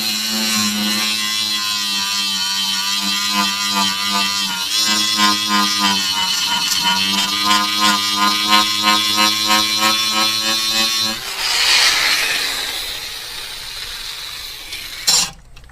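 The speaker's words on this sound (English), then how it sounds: "The grinder works just fine. We have the wire wheel on it." An old DeWalt grinder fitted with a wire wheel runs steadily and loudly with a constant whine and buzz, then spins down near the end, with a short clatter as it stops.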